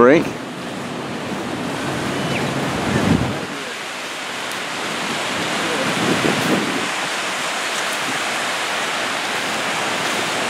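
Incoming ocean surf breaks on a beach while shore fishing, a steady loud wash of wave noise with occasional surges and some wind buffeting the microphone.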